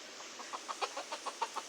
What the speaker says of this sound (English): A hen and a cock has surrounded her.